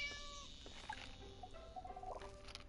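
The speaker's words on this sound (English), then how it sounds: "That's my cat." A cat meows in the Harvest Moon: Light of Hope video game, giving a few short, faint calls over a busy bed of game music and ambient sound.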